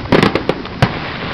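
Fourth of July fireworks bursting nearby, a quick cluster of sharp cracking pops followed by one more loud bang, with a hissy background.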